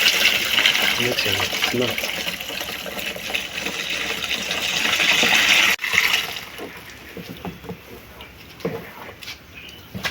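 Pond water carrying fish and bitter leaf extract is poured through a sieve, a steady splashing gush that eases off midway into softer trickles, with a brief spoken word.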